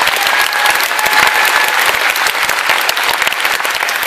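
Concert audience applauding in a hall during a live pop concert in Kirov, steady dense clapping throughout, loud and sustained with crowd noise and no talk over it.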